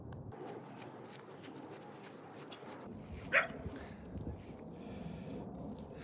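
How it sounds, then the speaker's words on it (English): A single sharp dog bark rings out once near the middle, fairly close, over quiet outdoor background noise with faint rustling. "I think there's a new dog up there."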